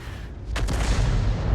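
Tank cannon rounds fire in a video game battle, a sharp broadband blast that rolls into a sustained, loud rumbling boom.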